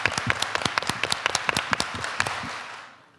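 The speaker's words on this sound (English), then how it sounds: "clap your hands." Dense applause from a festival audience at a film and TV Q&A, with many sharp individual claps popping out of the crowd noise before it fades out at the end.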